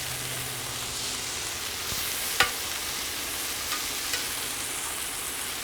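Shrimp and steak sizzle on a Solo Stove SteelFire griddle, a steady broad hiss throughout with one sharp tap and a couple of faint clicks.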